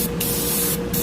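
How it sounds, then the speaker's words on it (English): Paasche Talon TG3F airbrush firing through a flat air cap, giving a close, hissing spray that runs steadily for about a second with two short dips in the airflow. "sprays a very wide pattern, very flat, and you can cover a pretty large surface"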